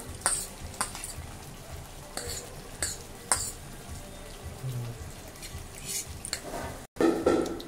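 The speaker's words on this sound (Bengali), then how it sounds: "দেখো টকবক করে ফুটছে, এক এক করে মাছ ছাড়া হচ্ছে।" Fish curry with yogurt, bay leaf, sugar and green chilli simmering in a pan as pieces of katla fish are added one by one; steady soft sizzle and bubbling with occasional clinks of utensils, no talk.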